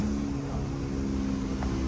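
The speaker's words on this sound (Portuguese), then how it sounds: "Tô escutando o carro acelerando." A steady, loud engine drone with a constant low hum, revving evenly throughout without pause, like a motor held at high speed: a Volkswagen Kombi van engine, turbocharged, accelerating on a dynamometer.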